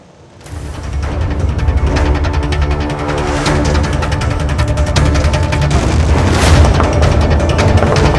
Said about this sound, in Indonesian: Kilatan api, ledakan,